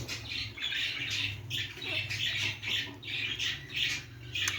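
Repeated harsh squawks and chatter from a pair of budgerigars, close and fairly constant, with a low background hum.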